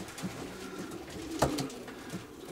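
Racing pigeons in a loft coo softly, with one louder coo in the middle and fainter coos around it over a low background murmur.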